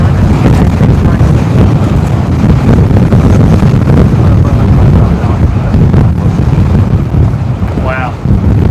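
Strong gusts of 35-plus knots buffet a microphone at Brisbane Airport, producing a loud, continuous roaring rumble that barely lets up throughout, with no voices heard.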